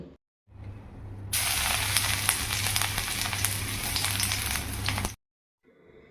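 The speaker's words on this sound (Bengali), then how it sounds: "আজকে আমি মসুর ডালের বড়া দিয়ে লাল শাক ভাজবো।" Red amaranth leaves frying in hot oil with red lentil fritters, a steady loud sizzle and hiss that swells partway through and holds for several seconds before cutting off, close up, with no talking.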